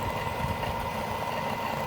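The motor of a swinging ride at an amusement attraction runs with a steady, low, even hum, continuous and moderately near, with no voices.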